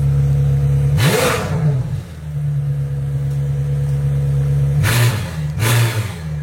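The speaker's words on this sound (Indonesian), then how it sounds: "Sekarang kita dengerin suaranya yuk kalau kita gas." A McLaren Senna's turbo engine idles and is blipped three times, each sharp rev swelling loud and falling back to a steady idle, with no talk over it.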